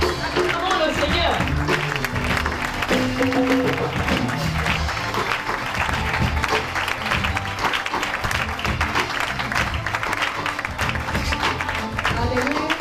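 A church congregation applauds and cheers in praise, dense sustained clapping filling the room at full volume, with voices and music mixed underneath.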